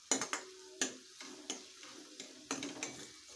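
Chopped onions sauté on low heat in a pan, with a spoon stirring and scraping in irregular bursts over a soft, steady sizzle; no voices.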